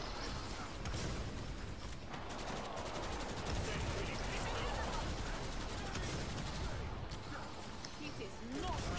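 Video game gunfire in Killing Floor 2, a dense, continuous wall of rapid shots and chaotic combat noise running throughout at steady loudness, with voices mixed in.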